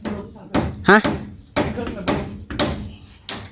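Sharp metallic hammer strikes ring out at an uneven pace, about eight blows, close by, with a brief voice heard between hits.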